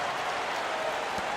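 Oklahoma City crowd in the NBA 2K15 basketball game, a steady arena roar of cheering and applause that holds at an even level throughout, without clear individual voices.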